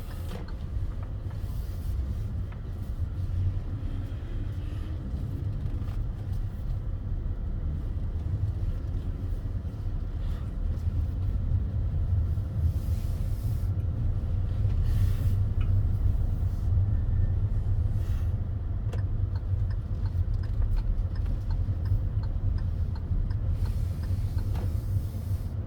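A car drives at low speed, pulls into a space in a car park and parks during a driving assessment, its engine rumble steady and close throughout with no talk over it.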